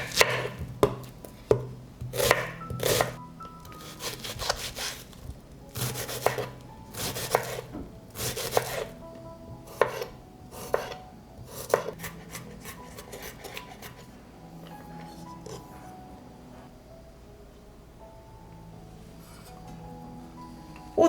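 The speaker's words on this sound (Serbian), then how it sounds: "Dok se krompir peče, iseckat ću luk i beli luk." A knife chops onion and garlic on a board, with sharp, rhythmic bursts of quick strokes, close and crisp, pausing between runs before softer scraping toward the end.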